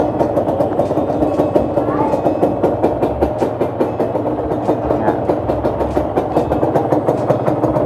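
A Honda LS125 motorcycle engine idles close by with a steady, rapid thumping rhythm, its exhaust pulsing evenly throughout.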